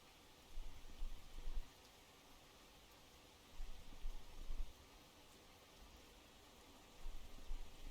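Rain in the fishing game Russian Fishing 4 makes a faint, steady hiss throughout, with soft low rumbling swells recurring every few seconds.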